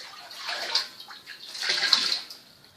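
Water poured from a pitcher into a bowl of sourdough bread dough mix, a close splashing, gushing pour in two swells, with no talking.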